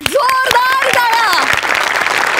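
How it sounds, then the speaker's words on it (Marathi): A studio audience at a Marathi comedy show, Maharashtrachi Hasya Jatra, claps loudly and continuously in sharp, rapid hand strikes, while a voice sings or calls out over the applause. "जोरदार टाळ्या"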